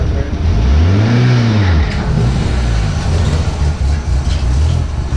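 A Mk2 Golf with a big-turbo 1.8T engine revs on a dyno, a loud droning engine note rising and falling in pitch near the start, then a rough idle-like rumble, with people talking over it.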